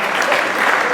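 An audience applauds after a startup pitch presentation at a startup weekend event, a steady, dense burst of clapping filling the room for just under a second.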